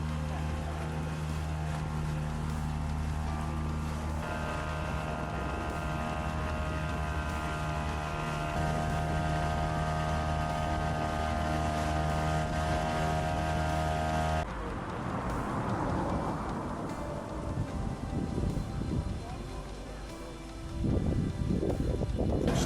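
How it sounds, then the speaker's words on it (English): A 5 horsepower outboard engine pushes a dinghy carrying four people through French Polynesian waters, giving a steady, close motor drone with some wind noise that shifts and roughens toward the end. "That 5 horsepower engine has some difficulty pushing the 4 of us along"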